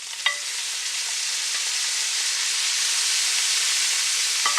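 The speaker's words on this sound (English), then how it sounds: "So now we're going to add our pickled cabbage." Pickled cabbage hits a hot wok with garlic and ginger and bursts into a loud, steady hiss of frying, with a few light clanks of a utensil at the start and end.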